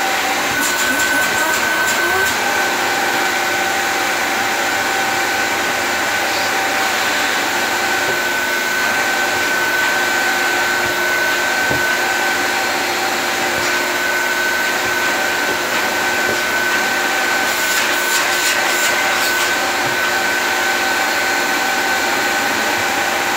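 A 1997 Dyson DC01 De Stijl vacuum cleaner runs continuously with a loud, steady motor whine and airflow roar, with occasional faint clicks and bumps from handling.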